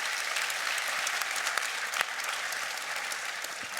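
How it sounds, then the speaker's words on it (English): An audience gives a panel a warm round of applause at a talk on process intelligence and AI, a dense, loud, continuous wash of clapping with no pauses from start to finish. "I would like to give a very warm applause to our dear panel."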